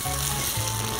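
Rice and vegetables sizzle as they toast in a hot pan, a steady, even hiss of frying with a low hum underneath and no talk.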